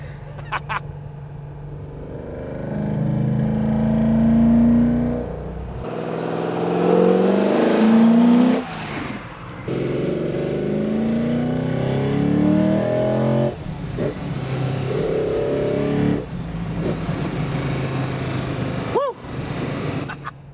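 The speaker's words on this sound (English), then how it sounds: "experience that induction roar of those 8 trumpets" A V8 engine revs repeatedly with a deep, throaty induction roar through eight intake trumpets, rising and falling in long loud pulses, with brief pauses between revs.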